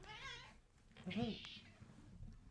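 A pet cat meows in a rising, drawn-out cry indoors, close by, with a person talking around it.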